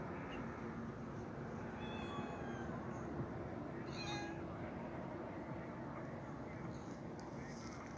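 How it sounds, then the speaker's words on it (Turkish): Free-living cats outdoors give several short, high meows over a steady background hum, with a person talking softly to them. "Kedicik ne haber? Çok tatlısın."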